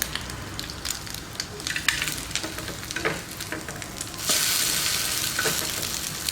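Bread dipped in egg roasts in oil on a pan with a close, crackling sizzle and scattered stirring scrapes. Partway through the frying swells into a louder, brighter hiss that carries on to the end, with no one talking.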